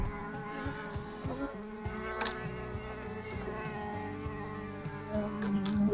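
Honey bees clustered around the center hole of a beehive's inner cover make a faint, steady buzzing hum, close by and soft, with no talking over it.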